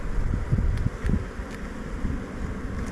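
Honey bees swarm a hive frame, giving a steady, close buzzing hum with light wind noise buffeting the microphone and a few brief higher flickers of individual bees passing.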